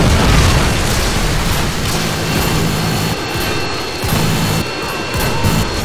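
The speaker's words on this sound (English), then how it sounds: "Friendly Predator missile inbound." Predator missile strike in Modern Warfare 2 ground war, a loud sustained rumbling blast and roaring debris wash that dips and swells again, heavy and continuous without talk.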